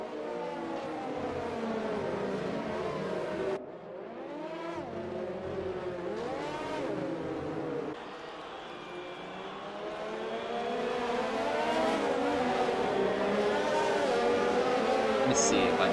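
Formula 1 race cars roar through a Russian Grand Prix in a racing video game, engines droning and shifting pitch steadily behind a safety car, with a commentator talking over the noise throughout.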